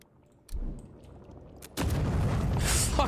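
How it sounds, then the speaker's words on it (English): A shrapnel grenade explodes in the fantasy video game Avowed: first a sharp thump, then a loud, close blast that rolls on with a long, rumbling, crackling tail. "That just looks like a modern shrapnel grenade."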